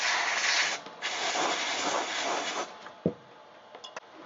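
Compressed gas sprays fibers off a ZX-81 circuit board in a loud, continuous airy hiss that fades after about three seconds, followed by a few small clicks and taps.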